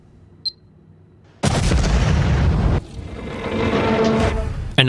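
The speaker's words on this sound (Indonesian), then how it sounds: "Ledakan besar pun terjadi." A movie car bomb goes off: after a quiet opening with one small click, a sudden loud blast bursts in and rolls on as a long roaring rumble, then a second boom at the very end.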